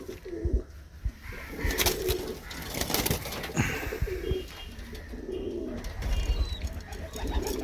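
Teddy pigeons coo repeatedly up close in a pen, the low throaty calls rising and falling over a busy, shuffling background, with faint chirps and a brief wing flutter.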